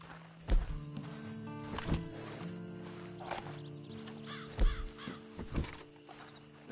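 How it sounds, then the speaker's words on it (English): Horse hooves clip-clopping in the video game Red Dead Redemption 2, a few soft, fairly distant irregular thuds over a quiet ambient bed with faint tonal game sounds. "And you better get on this horse."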